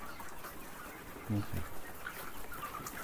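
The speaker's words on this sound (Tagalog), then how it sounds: "Dami manok oh." Ready-to-lay layer hens murmur and cluck in a large poultry farm, faint and diffuse, with a couple of brief louder clucks in the middle.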